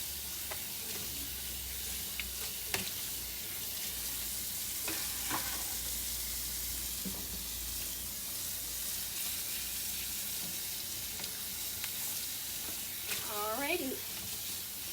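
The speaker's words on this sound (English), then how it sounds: "We rinse it off and make sure the sides are all clean and the back's all clean too" Running water pours steadily over plates being rinsed at a sink, a constant broad hiss with occasional clinks and splashes, and a voice briefly murmuring nearby.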